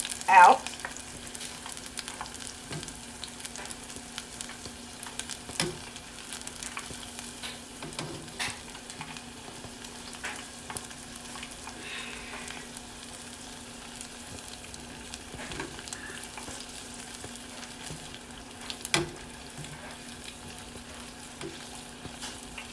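Battered onion rings frying in a pan of oil, a steady low sizzle running throughout with scattered pops and a few sharper utensil clicks, close and without voices.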